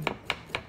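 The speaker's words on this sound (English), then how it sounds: "you'll be able to peel your ginger with the back of your spoon" Ginger being peeled with the back of a spoon, three short scraping strokes evenly spaced, close and fairly quiet, with no one talking.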